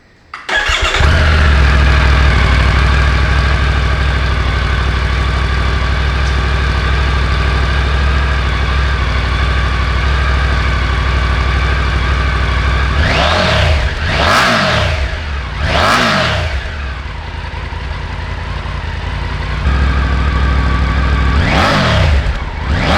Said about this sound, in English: what I'm going to do first is a sound test of the stock exhaust